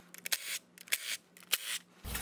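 A ratchet undoes 10 mm bolts on a Volkswagen VR6 valve cover, several bursts of quick close clicking separated by short pauses.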